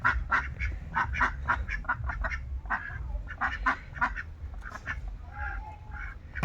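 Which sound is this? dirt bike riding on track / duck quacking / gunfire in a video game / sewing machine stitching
duck quacking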